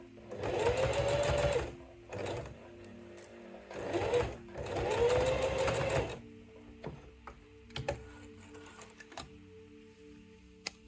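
A sewing machine stitches around the edge of a fabric sleep mask in two steady motor runs, with quiet pauses, pin handling and light clicks in between.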